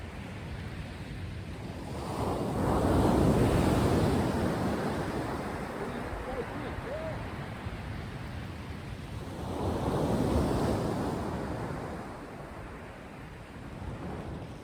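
Sea swell rolling onto the shore at Southbourne on a rising tide, heard as a steady broadband wash with two louder surges that build and fade, mixed with wind buffeting the microphone and no talk.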